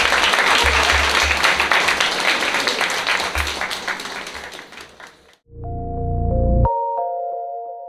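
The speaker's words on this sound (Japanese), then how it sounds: "皆様エキシビジョン両選手へ大きな拍手をお送りください" Loud audience applause for two exhibition fighters at a combat-sports event, dense clapping that runs about five seconds and then cuts off, followed by a ringing electronic chime tone.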